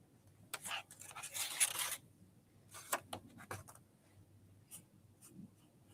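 A large-nib pen is drawn all the way around a border, giving close, dry scratchy strokes in uneven bursts separated by short pauses, with no talking.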